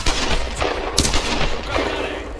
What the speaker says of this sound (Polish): No kogo on tak strzela?